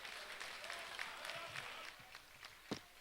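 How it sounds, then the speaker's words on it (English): A fight night crowd applauds an experienced boxer, distant, scattered clapping with a few sharper claps and faint movement in the room. "Shall we give him another round of applause?"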